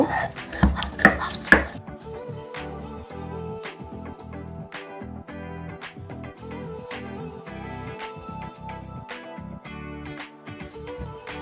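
Spices with black cumin ground with a little water on a flat grinding stone, giving a steady run of close, rhythmic scraping and knocking strokes after a few louder thumps at the start.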